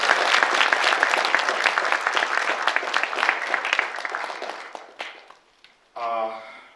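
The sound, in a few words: applause at a Korean journalism award ceremony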